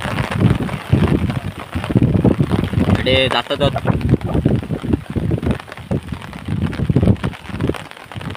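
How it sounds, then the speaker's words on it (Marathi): Heavy rain pours steadily while wind buffets the microphone, and someone talks over the constant rushing roar. "वारा पण भरपूर आणि पाऊस पण भरपूर आहे बघा."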